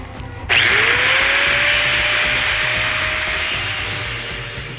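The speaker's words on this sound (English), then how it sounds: "we're just going to grind it up" An angle grinder starts abruptly and grinds welded metal edges flush on a barbecue built from a water heater, a loud continuous whine held steady for several seconds while tapering slightly.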